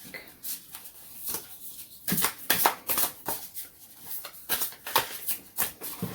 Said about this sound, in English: I'll just shuffle this back into the deck